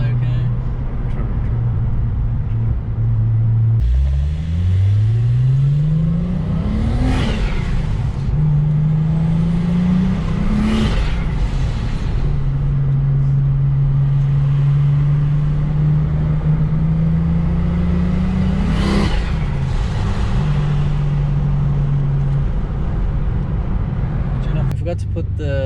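A tuned 570 hp Nissan R34 Skyline engine revs loudly and close, its pitch climbing in repeated sweeping pulls and holds with sharp blips between, running continuously.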